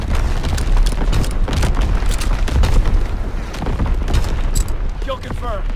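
A bomb explodes in Resistance WW2, a World War II shooter, as a dense, rumbling blast fills the whole stretch alongside crackling gunfire. It is loud and close, and faint voices sit in the mix.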